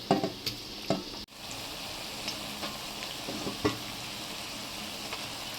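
Washed chicken pieces tipped into a pan of lightly fried onion, giving a steady close sizzle with a few louder bursts and stirring clatters, no voices.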